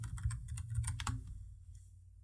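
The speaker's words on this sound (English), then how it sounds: "So I'm going to type in 10Web Page Speed Booster." A computer keyboard is typed on to enter a website plugin name, about a dozen quick close key clicks in an uneven burst that trails off into quiet.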